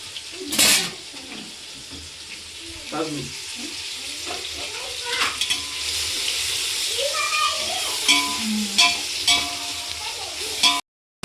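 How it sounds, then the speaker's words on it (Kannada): Chopped tomatoes tipped into a hot frying pan for dum biryani and stirred, giving scraping spoon strokes and soft sizzling, with a person talking over the cooking throughout. "ಇವಾಗ ಟೊಮೆಟೊ ಹಾಕ್ಕೊಳ್ಳೋಣ"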